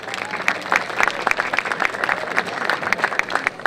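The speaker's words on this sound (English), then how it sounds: "let's give Casey a round of applause." A crowd applauds an award winner at a Texas Independence Day celebration opening ceremony, a brief burst of dense clapping with a few sharper individual claps standing out.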